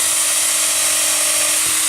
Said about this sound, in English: I'm just going to drill a little hole around here